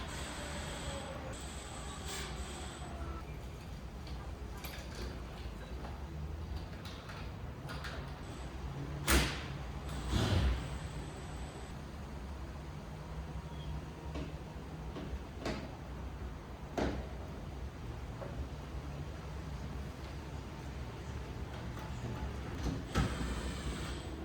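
A lock set is fitted to a freshly painted exterior front door, and the door is then closed. Sparse metallic clicks and clunks come from close by, with two sharper knocks partway through and only faint background noise between them.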